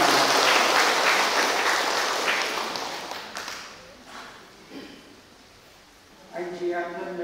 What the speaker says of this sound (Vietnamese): Chúng ta cùng một tràng pháo tay lớn để chúc mừng anh chị.